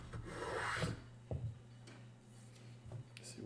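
Hand-planing cuts on a wooden violin bow stick near its final dimension: a few short dry rasping strokes, close and moderately loud, separated by brief pauses over a steady low background hum.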